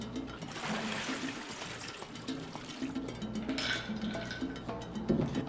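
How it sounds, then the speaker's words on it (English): Homemade pineapple tepache poured from a container into a glass, a close, steady splashing and fizzing trickle of liquid lasting several seconds, with no speech. "Here we've got our tepache. Let's get it poured and give it a try."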